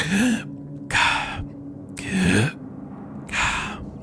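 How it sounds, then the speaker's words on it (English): Four heavy, breathy exhales and inhales spaced about a second apart, close and loud, with quiet pauses between each deep breath. "Deep, heavy breaths as you guys are."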